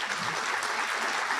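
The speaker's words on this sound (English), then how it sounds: "give yourselves a round of applause" Sustained applause from an audience at an awards dinner, a dense, even clatter of many hands clapping steadily throughout at moderate volume.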